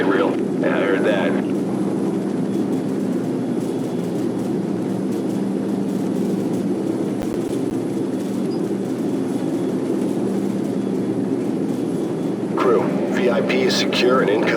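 Heavy rotor and engine rumble of helicopters in Call of Duty 4: Modern Warfare, a constant loud roar, with brief bursts of voices near the start and end.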